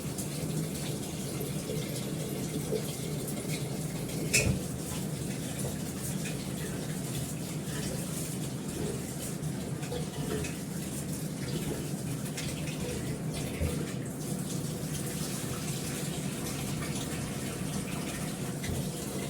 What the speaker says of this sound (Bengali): চালটা ধুয়ে রাখি